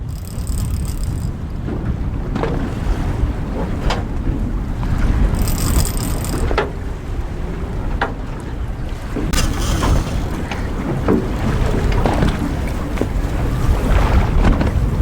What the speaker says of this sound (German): Widrige Bedingungen hier. Wind um die 25-30 km/h, leichter Schneefall bei 1 Grad.